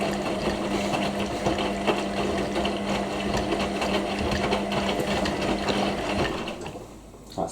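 Indesit IWC6125 washing machine spinning at 1,000 RPM after a 90°C cotton wash gives a loud, steady whirring drone with a constant hum beneath, easing off slightly toward the end, with no voices.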